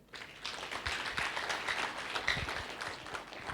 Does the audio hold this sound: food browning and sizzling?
no